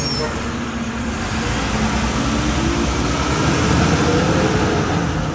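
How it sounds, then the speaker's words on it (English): Low, continuous rumble of garbage truck traffic on a city street in Naperville, a steady engine and road drone holding at a constant level throughout with no talking over it. "The irony of garbage trucks releasing all that noise pollution."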